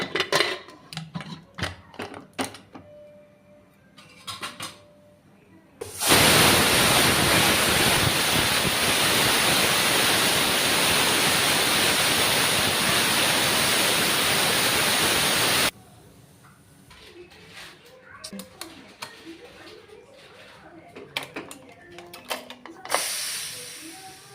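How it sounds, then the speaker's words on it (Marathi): A pressure cooker cooking Khandeshi masala khichdi with hot water and homemade ghee lets out a loud, steady hiss lasting about ten seconds, cutting in sharply over quiet kitchen clatter and then stopping abruptly. "आता कुकर लावून घेते."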